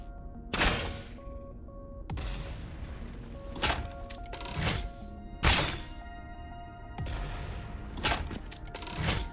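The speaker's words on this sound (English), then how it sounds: "Oh, that looks cool, those explosions." Explosions go off in the video game Satisfactory as a series of sharp, loud blasts spaced a second or two apart, each followed by a rumbling, crackling decay under a faint steady background tone.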